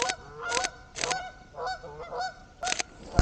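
Several geese honk in loud, separate bursts outdoors in a rural area, with short pauses between the calls and no voices.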